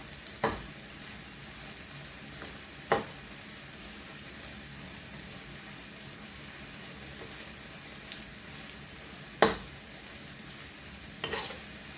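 Tofu pieces frying in oil for crispy tofu, giving a low, quiet sizzle with a few sharp clacks at intervals as the pieces are turned over.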